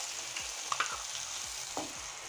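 Onion and tomato stir-fry in a pan, a steady close sizzle with a few soft scraping strokes of a spoon as the mixture is stirred.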